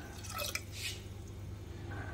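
Water is poured into a pressure cooker set on a lit gas stove for boiling kidney beans, giving a brief close splash and dribble at the start over a low, steady burner hum.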